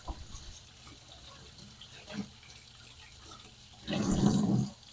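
Standard aquarium filter pads being rinsed under a running tap, a steady trickle of water rising into a brief louder gush near the end, close by with no talking.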